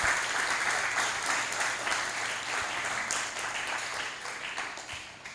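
A church congregation applauds steadily for several seconds, a broad, even patter of many hands clapping at moderate loudness with no talking over it.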